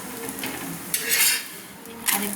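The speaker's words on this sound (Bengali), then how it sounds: "1 চামচ তেল দিয়ে একটা পাটিসাপটা ভেজে নিলাম।" Patishapta, a Bengali rolled crepe, frying in a spoonful of oil in a pan, a short close sizzle with a couple of scraping spatula strokes.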